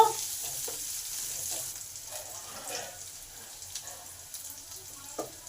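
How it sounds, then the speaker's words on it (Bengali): Chopped onions frying in a pan, a soft steady sizzle with faint stirring scrapes and a few small clinks, fairly quiet and close, no voices. "পেঁয়াজটা একটু ভালো করে ভেজে নেব"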